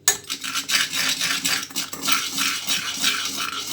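A teaspoon clinks steadily against a container as a mixture with baking soda is stirred briskly, loud and close, with a continuous rhythmic scraping.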